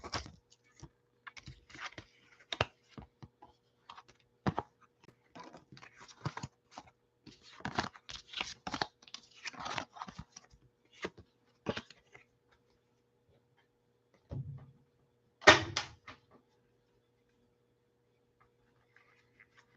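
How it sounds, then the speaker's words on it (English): Tarot cards are handled and shuffled close by in quiet, a scattered run of soft taps, flicks and riffles in irregular bursts, ending with a couple of sharper slaps and then near silence. "Let me shuffle the cards for you, Natasha."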